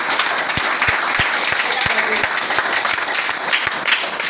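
A church congregation applauds during a sermon at Gbaleguhe, Grand-Zattry: dense, sustained clapping fills the whole stretch, with steady rhythmic low thumps running beneath it.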